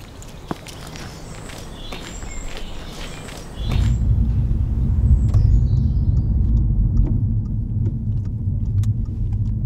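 A car on a short road trip to the post office: a few light footsteps and clicks, then a steady, loud low engine and road rumble from inside the car.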